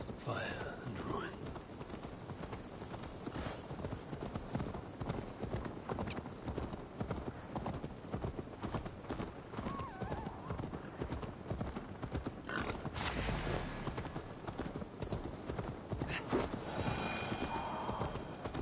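A horse gallops in Assassin's Creed Valhalla with rapid rhythmic hoofbeats throughout, plus a whinny and some clatter, game music and occasional talk underneath.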